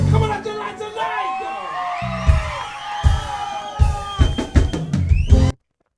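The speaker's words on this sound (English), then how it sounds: "So I wanted to make sure I got some crowd noise." A live reggae show crowd whoops, yells and cheers over music, with excited shouts and a voice calling out amid the noise before it cuts off abruptly.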